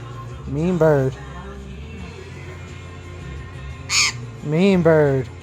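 A pet bird gives loud, harsh crow-like caws, two drawn-out calls a few seconds apart with a short sharp cry between them, close by over a low background hum.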